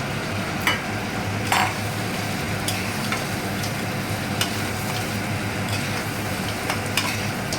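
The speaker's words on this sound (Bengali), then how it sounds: "এবার আমার অল্প ভেজে রাখা কাঁকড়াটা আমি এইটার মধ্যে দিয়ে কিছুক্ষণ মাংসের মতো" Crab is stirred and fried in a spiced masala in a pan for a Bengali crab and potato curry. A dense, continuous sizzle sounds up close, broken by occasional sharp spatula scrapes and clicks.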